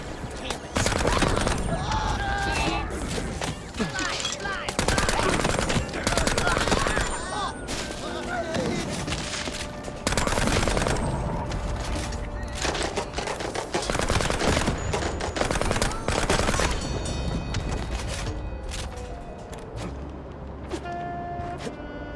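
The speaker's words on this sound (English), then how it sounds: "right now we're back on the Tommy gun" Tommy gun firing in the game MOUSE: P.I. For Hire, rapid bursts of automatic fire repeating throughout, loud and close, with clattering impacts and game effects, under someone talking.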